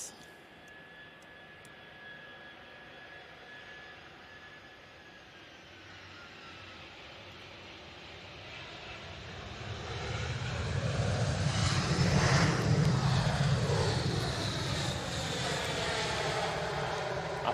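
An Emirates airliner landing at Manchester Airport: a jet whine builds from a distant hum into a loud, broad engine roar as it passes close, then holds at a steady rumble.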